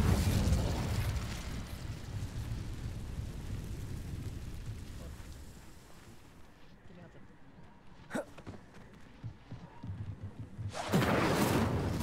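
The Incendio fire spell is cast in Hogwarts Legacy, giving a loud rushing burst of flame that fades into a low rumble, followed by a sharp crack and another roaring surge at the end.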